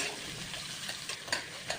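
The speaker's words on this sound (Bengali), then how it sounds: "এবারে ভেজে নেব।" Carrot, capsicum, beans and peas fry for upma in a pan, a soft steady sizzle with faint stirring scrapes, quiet and close, with no talking.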